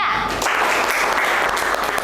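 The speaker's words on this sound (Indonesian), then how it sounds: "Beri tepuk tangan untuk kelompok 3." Students in a classroom applaud a discussion group, a steady wash of many hands clapping together at moderate loudness for a couple of seconds.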